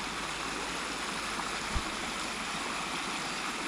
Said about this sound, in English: Let's cross this river today and see where it goes.